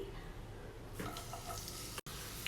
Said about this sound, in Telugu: నెక్స్ట్ ఈ తాలింపు అంతా కూడా గోల్డ్ కలర్ వచ్చేంత వరకు ఫ్రై చేసుకోవాలండి